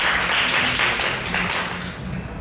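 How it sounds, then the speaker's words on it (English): A room of members at an annual general meeting gives Kasun a round of applause: close, continuous clapping that stays strong and tapers slightly near the end. "Can you give him a round of applause?"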